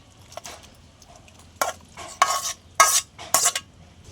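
A spoon scrapes and stirs paste in a bowl or tiffin box, in several short bursts with quiet gaps between, close up and fairly loud.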